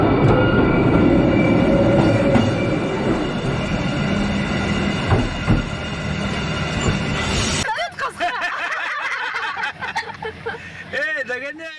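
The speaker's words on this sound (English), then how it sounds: "On a train in Switzerland, he shows the technology and how the switch system changes tracks." A train in Switzerland rolls through a track switch, first a loud, steady rumble of wheels on rail, then a sudden change to rattling clatter and high, wavering wheel squeals as the cars cross the points.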